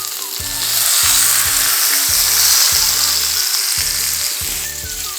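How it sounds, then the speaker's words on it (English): Pork pieces sizzle and fry as they brown in hot fat, a loud, steady crackling hiss with faint rhythmic knocking of a pan or utensil underneath. "You should hear a sizzle."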